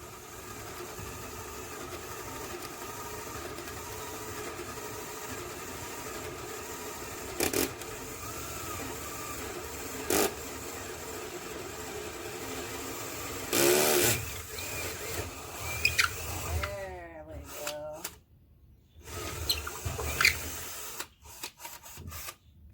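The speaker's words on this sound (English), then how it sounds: "try to keep the drill straight" A cordless power drill whirs steadily for a long stretch, broken by a few sharp clicks and clunks, then stops and starts in short bursts near the end, while installing a barn door.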